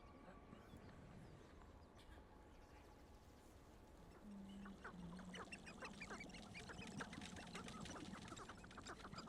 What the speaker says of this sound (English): Those are not chickens. Quail.